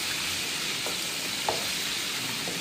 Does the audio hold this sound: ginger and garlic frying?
yes